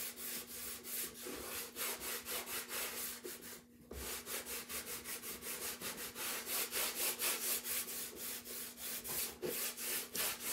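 Wax is rubbed by hand onto painted wood over a transfer, making a steady series of close, rhythmic scrubbing strokes with one brief pause.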